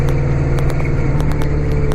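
A tractor engine runs steadily nearby while clearing snow, a loud, even low rumble with a rhythmic mechanical ticking, no talking.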